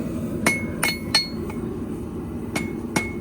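A heavy ball peen hammer rings out in six sharp metallic strikes on hot, thin steel, spaced irregularly across a steady low background hum.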